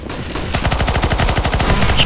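Rapid automatic gunfire in CS:GO Zombies, a steady burst of close, loud shots fired at a boss, pounding on without pause after a short quiet lead-in.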